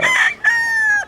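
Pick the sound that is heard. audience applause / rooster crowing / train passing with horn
rooster crowing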